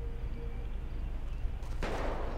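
Gunfire in a GTA 5 roleplay match: a sudden loud burst of shots or a broadband blast in the second half, cutting abruptly through steady low game ambience.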